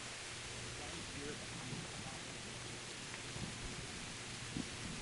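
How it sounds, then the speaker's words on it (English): Rain falls steadily in Kingdom Come: Deliverance, a dense, even hiss of broadband noise with faint low rumbles of thunder, while a person talks quietly over it. "The rain effects in this game were really good."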